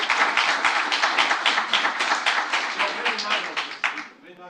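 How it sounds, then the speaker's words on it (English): An audience at a Zagreb tech conference applauds, a rapid, steady clatter of many hands clapping close and even for several seconds before tapering off. "Big applause, please."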